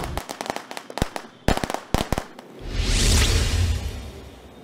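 A string of sharp firecracker bangs rattles off in quick, irregular succession, loud and close, then gives way to a long rushing whoosh and hiss like a rocket or fountain firework.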